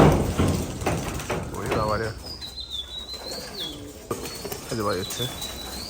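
A burst of flapping wings from Giribaz pigeons at a pigeon farm, then soft coos and chirps, with a voice speaking over parts of it.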